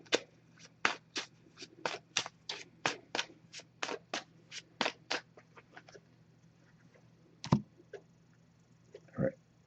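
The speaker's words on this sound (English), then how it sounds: "I'm just going to give this a few shuffles." Oracle cards shuffled by hand, close up, with a quick run of crisp riffling snaps for about five seconds, then a few scattered soft taps and rustles.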